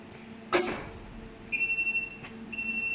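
Over-voltage alarm from an ST-GER 200kVA static voltage stabilizer: a steady high electronic beep tone switches on partway through and keeps sounding, with a louder clunk just before it, likely the contactor tripping into protection mode.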